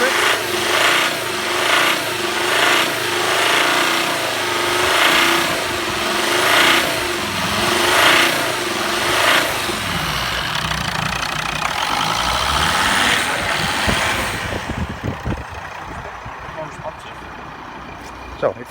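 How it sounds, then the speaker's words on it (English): A Volvo XC60 D5 diesel engine, just after an injector replacement, revs in repeated rising and falling pulses before settling toward a lower idle, loud and close, with voices talking over it. "We're revving a little bit."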